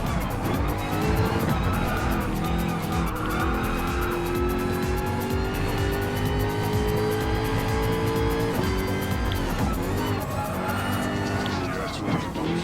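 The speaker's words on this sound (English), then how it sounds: "I'll make sure I'm about to overtake the Italian Gr.3 race car." A Gr.3 race car engine roars continuously at high revs in Gran Turismo Sport at Mount Panorama during an endurance race, rising and shifting in pitch through gear changes, with tire squeal and other cars nearby, loud and close throughout.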